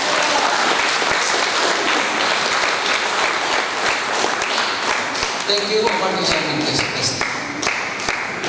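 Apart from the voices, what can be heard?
audience clapping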